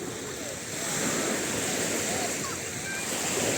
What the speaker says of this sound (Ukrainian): Знову ви чуєте шум моря.